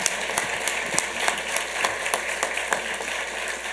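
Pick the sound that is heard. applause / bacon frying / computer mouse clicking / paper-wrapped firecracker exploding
applause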